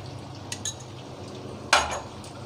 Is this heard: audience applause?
no